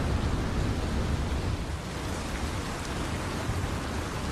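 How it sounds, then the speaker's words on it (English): Steady heavy rain pours down continuously, a dense even hiss of drops with no voices. "The rain doesn't look like it is going to let up anytime soon."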